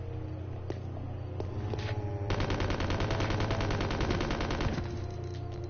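Rapid automatic gunfire from a video game weapon rattles in a sustained burst of about two and a half seconds, preceded by a few isolated shots and faint footsteps, loud and close.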